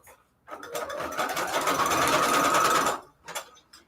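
Sewing machine stitching through cardstock for a paper junk journal embellishment, a close, rapid mechanical chatter running steadily for about two and a half seconds, followed by a brief short burst after a pause.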